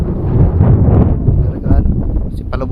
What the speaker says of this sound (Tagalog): Medyo mahangin dito kung napansin sa likod.